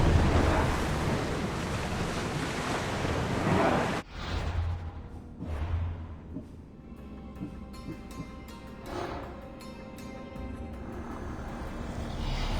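Ocean waves and rushing wind from a ship under sail in Assassin's Creed Odyssey, a dense roaring surge that cuts off abruptly, then continues as quieter splashing water with faint creaks and rumbles.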